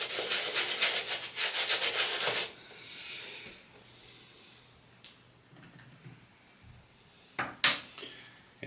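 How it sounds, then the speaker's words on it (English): A cleaning brush with foam scrubs the uppers of a shoe, a dense rhythmic bristly rubbing that runs steadily at first and then gives way to softer, sparser strokes and a few sharper handling knocks, close up. "Now I just want to start by scrubbing the uppers of the shoe."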